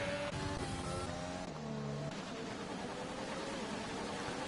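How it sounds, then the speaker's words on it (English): A racing car in an F1 video game at the Hungary round, running with a gearbox glitch, gives a continuous engine whine whose pitch steps up and down through gear changes over a rough, rattly background. "It's rattling like mad with this gearbox glitch"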